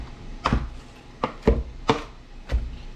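A knife chops on a board in five distinct, evenly spaced strokes, close and crisp, with quiet pauses between them.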